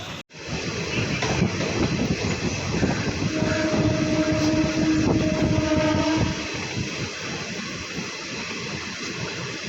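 A train rolling at speed past Washermanpet station on the Chennai Egmore–Beach line, a loud sustained roar of wheels and rail noise close by with a brief horn-like tone midway, fading somewhat toward the end.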